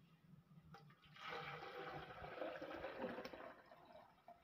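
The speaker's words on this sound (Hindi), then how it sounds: "अब मैं इसमें एक ये जग लिया ग्राइंडर का और इसमें पानी डालूंगी" Water pours into a grinder jug in a home kitchen, a rushing splashing stream that starts after a second and runs steadily for about three seconds before tapering off, quiet and with no talk.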